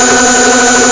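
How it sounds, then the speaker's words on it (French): Nerf Strife blaster flywheel motors spinning up close, a loud steady high-pitched electric whine with a constant tone. "écoutez le bruit du Strife à côté"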